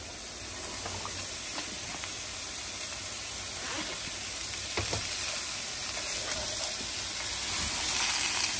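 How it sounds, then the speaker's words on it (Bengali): Radish pieces stir-fried with spices in a pan give a steady, close frying sizzle and hiss, with occasional scraping and stirring clicks, growing slightly louder near the end. "মূলো দিয়ে খুব ভালো করে কষিয়ে নিচ্ছে।"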